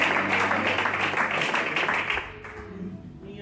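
Church congregation applauding during a sermon, a dense wash of clapping that stays full and steady before thinning and fading out near the end, with some voices mixed in.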